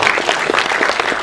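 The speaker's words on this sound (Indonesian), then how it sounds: "Boleh tepuk tangan dong untuk Bapak ini." Sustained audience applause at an Indonesian film press conference, a dense steady patter of many hands clapping at full volume throughout, with no speech over it.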